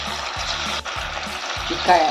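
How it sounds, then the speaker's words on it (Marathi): Palak vadi dropped into hot oil, giving a continuous dense frying hiss at close range, with a short dip in the middle and a soft voice briefly heard near the end. "आपलं तेल छान तापलंय टाकूया आपण एक एक करून वडी"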